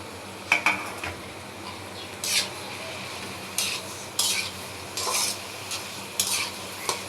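Spices are stirred into meat in a pan, a steady frying sizzle running under repeated scraping and clattering strokes of a utensil against the pan, close and fairly loud.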